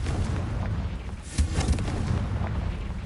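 A Confringo fire spell explodes in a video game, with a dense booming burst near the middle that rises briefly above a continuous rumbling blast.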